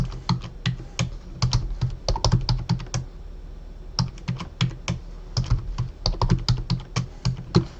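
Keys clacking on a computer keyboard as a new password is entered, in irregular bursts of crisp, close taps with a short pause partway through, no voices.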